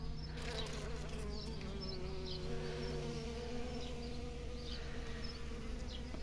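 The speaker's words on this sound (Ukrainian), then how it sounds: "На вулиці сонце, то все бджоли працюють повним ходом" Steady, dense buzzing of many bees, a continuous drone with a low hum underneath, occasional insects flitting closer past the microphone.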